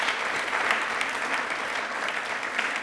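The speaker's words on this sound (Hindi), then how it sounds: "तालियां पहले जोरदार बजाइए" Studio audience applause on a Rajasthani television quiz show, an even, moderate wash of clapping lasting a few seconds without talk.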